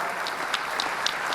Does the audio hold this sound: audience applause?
yes